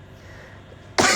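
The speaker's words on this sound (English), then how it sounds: "I still have a lingering cough" Someone with a lingering cough, outdoors at a strip-till field demonstration, gives a single short, loud cough at the end after quiet background noise.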